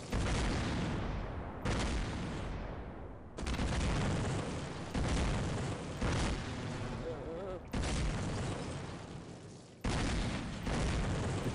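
Rocket jump explosions in Half-Life, a run of six or seven loud booming blasts cut one after another, each ending in an abrupt silence, with voices talking at times between them.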